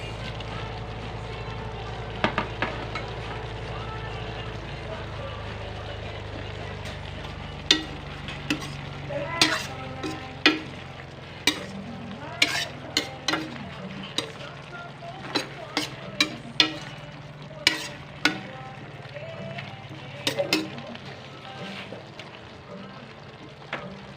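Chicken, broccoli, baby corn and onion sautéing in a pan, a continuous sizzle broken by frequent sharp utensil clacks and scrapes from stirring, close and fairly loud.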